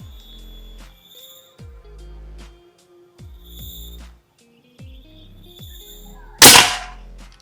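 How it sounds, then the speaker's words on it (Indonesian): A Bocap AFC 500cc PCP air rifle fires with a single sharp, loud crack near the end, after several quieter clicks and knocks. "Kali ini untuk tembakan yang terakhir."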